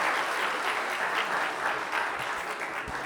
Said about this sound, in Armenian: եկեք ձեր ծափարություններով ողջունենք